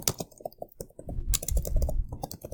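Keys clack on a computer keyboard in short irregular runs, close and fairly quiet, then come faster and denser toward the end, with no talking.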